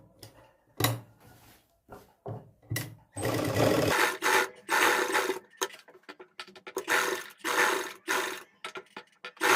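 A sewing machine stitching a V-neck patch onto a kameez runs in short and longer bursts with brief pauses between runs, close and moderately loud with no voices.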